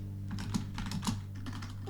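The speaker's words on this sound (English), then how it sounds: "I'm hearing some typing from one half of the classroom" Keys clatter steadily on a loud computer keyboard in a classroom, a quick irregular run of close, crisp clicks with no voices over them.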